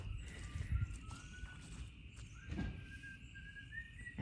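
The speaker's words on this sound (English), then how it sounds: "And I hear a little boy whistling." Faint whistling from a little boy drifts in from a distance on a farm, a thin wavering tune over a quiet outdoor background with soft thumps and movement.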